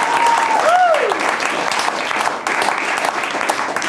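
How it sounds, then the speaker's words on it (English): Studio audience applause on a comedy show fills the clip, loud and steady throughout, with a brief voice or whistle-like cheer rising early on. "our regular guest, Jess Harris, who all deserves a round of applause, guys."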